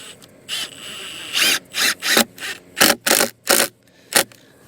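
Screws driven into wood for a homestead bridge, sunk just below the surface: a series of short, loud whirring bursts from a power driver, each a second or less, separated by brief pauses, close up with no talking.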